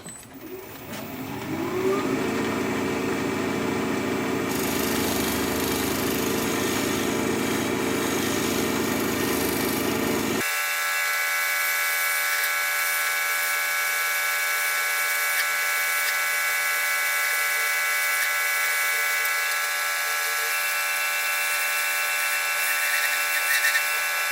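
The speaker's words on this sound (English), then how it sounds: "Try a little shear scraping, see if we can't clean that up." A wood lathe spins a thin-walled bowl while a tool shear-scrapes it, giving a loud continuous whirring hum with a scraping texture that changes character partway through and then runs on steadily.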